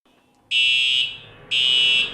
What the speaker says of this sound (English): what to do when a fire alarm goes off during a lockdown